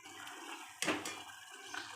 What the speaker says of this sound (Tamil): பால் ஊற்றி நல்லா வேவிக்கணுங்க